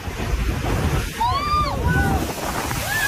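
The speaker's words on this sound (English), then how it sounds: "These people didn't expect a big wave coming." A big wave crashes ashore, a loud, continuous rushing surge of water buffeted by wind noise, while voices cry out briefly over the roar.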